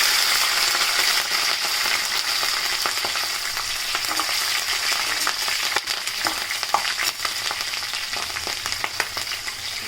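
Mustard and other tempering seeds frying in hot oil with green chilies give a loud, dense, continuous crackle and sizzle, peppered with sharp popping spits throughout.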